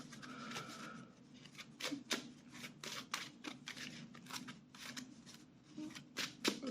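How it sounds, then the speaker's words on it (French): A deck of playing cards is shuffled in a card game, giving repeated crisp riffling bursts at close range over about seven seconds, with faint background noise and no speech. "Je mélange juste mes cartes 2 secondes pour pouvoir draw."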